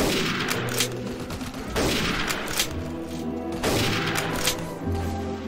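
Rifle and gun volleys crack in a WWII battle in Mount & Blade: Warband, several loud, close shots spaced about a second apart, each with a short echoing tail over a rumbling battlefield.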